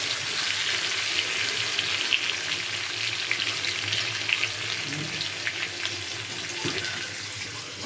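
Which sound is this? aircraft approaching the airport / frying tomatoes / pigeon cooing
frying tomatoes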